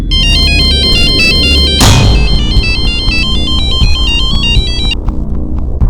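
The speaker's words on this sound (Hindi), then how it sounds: "उसके बाद मैंने जोया को रात को फिर से फोन किया।" A phone ringtone plays a repeating electronic melody, loud and close, over a low background rumble, stopping shortly before the end.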